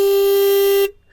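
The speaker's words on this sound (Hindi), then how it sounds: "साथ में यहाँ पे टर्न इंडिकेटर से हॉर्न सुन लो" A motorcycle horn on a KTM Duke 250 gen 3 or a 2024 Bajaj NS 400Z gives one loud, steady, close-up blast of just under a second, then cuts off sharply into quiet.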